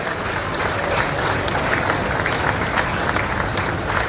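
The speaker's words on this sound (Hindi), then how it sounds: "तालियां आपकी बजती रहनी चाहिए," A large audience at a public event in Jagdalpur keeps up loud, dense applause, a steady wash of clapping hands that runs without a break from start to finish.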